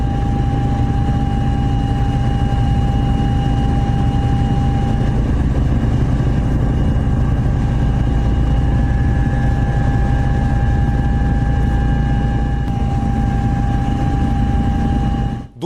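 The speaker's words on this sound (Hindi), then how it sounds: "गृह मंत्री अमित शाह आज हेलीकॉप्टर से पहुंचे" A helicopter arrives at Hingalganj, West Bengal, with a loud, steady engine and rotor drone that holds unbroken for about fifteen seconds before cutting off abruptly.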